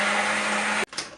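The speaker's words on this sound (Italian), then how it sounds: "Inseriamo all'interno un filo di olio extravergine d'oliva a crudo e frulliamo il tutto." An electric blender whirs loud and steady as it purées tomato with a drizzle of raw extra-virgin olive oil, then cuts off abruptly near the end, leaving a brief clatter.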